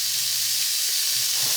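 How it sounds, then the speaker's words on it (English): Squash sizzles in a hot pan, a steady, loud frying hiss that fills the whole moment with no talking. "I moved the turkey just for now so I can cook up my squash separately."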